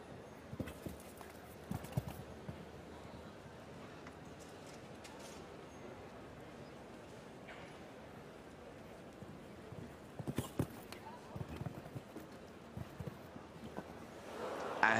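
Show jumping horses' hooves thud on the arena during a team competition at Aix-la-Chapelle, a faint rhythmic clip-clop under crowd ambience, growing busier near the end.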